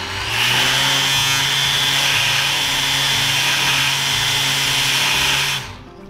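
Mirka Deros electric sander whirs up and runs at a steady, close, high-pitched hum for several seconds. It then cuts off and spins down, alone with no voices.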